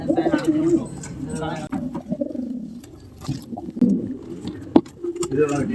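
Racing pigeons in a loft coo repeatedly in low, throaty rolling calls, several birds overlapping close by, with occasional flutters and knocks in between.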